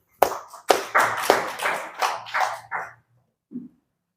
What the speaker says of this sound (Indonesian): Tepuk tangan untuk Jahid.